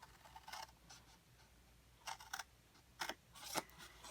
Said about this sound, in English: Just cut straight up on the tab side of the score line